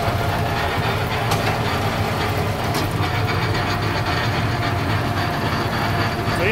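The bale loader on a 45-year-old New Holland bale wagon, switched by an added electronic controller, is raised with a steady loud mechanical drone and hydraulic hum, plus faint clanks and rattles, heard close throughout without talking.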